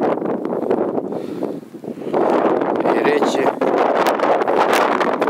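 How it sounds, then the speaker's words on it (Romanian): Strong wind gusts buffet the microphone beside beehives on a cold day of about 3 degrees, a loud rushing roar that rises and falls while a person speaks briefly over it. "bate vântul destul de puternic"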